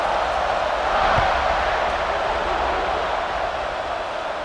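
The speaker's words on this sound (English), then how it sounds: "this crowd is buzzing after that last score" A stadium crowd at a Texas versus Georgia game in the college football game CFB 26 keeps up a steady, dense roar. The broad wash of noise holds loud and even throughout without clear breaks.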